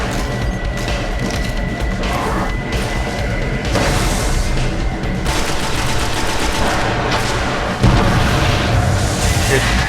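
Grenade blasts and gunfire in the video game Destiny, dense booming explosions and rattling shots throughout at high level, with players' voices talking over the battle.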